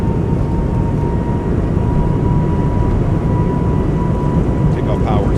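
Airbus A220 jet engines in a flight simulator spool up toward takeoff power, a loud continuous roar and rumble with a faint steady whine throughout.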